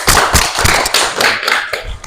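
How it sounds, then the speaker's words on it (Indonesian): A classroom group claps together, loud, close and dense, with quick irregular hand claps building into brief applause. "Tepuk tangan dulu"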